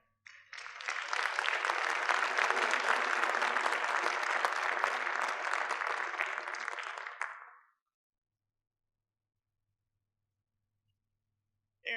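An audience at a school awards conference bursts into sustained applause that holds steady for several seconds, then fades out into silence.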